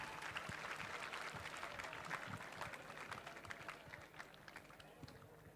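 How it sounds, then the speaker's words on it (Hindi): Audience applause at a talk show event, steady dense clapping from a sizeable crowd that carries on throughout and fades slightly toward the end, with little talk. "तो जोरदार तालियां एक बार"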